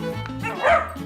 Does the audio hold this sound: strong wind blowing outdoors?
no